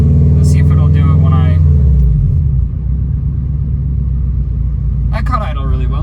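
A car engine being tuned drops from a higher rumble and settles into a low, slightly uneven idle, loud and close, with a person talking over it at the start and again near the end.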